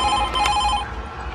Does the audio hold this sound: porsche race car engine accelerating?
no